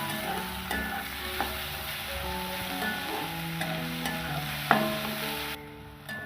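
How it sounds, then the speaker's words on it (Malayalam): Shallots, chopped onion and curry leaves sauté in a pan for a Kerala-style beef roast, giving a continuous close sizzle broken by stirring clinks and scrapes, with no voices. "ചുവന്നുള്ളി വഴന്നു തുടങ്ങുമ്പോൾ ഒരു സവാള ചെറുതായിട്ട് അരിഞ്ഞത് കൂടെ ചേർത്ത് കൊടുക്കാം."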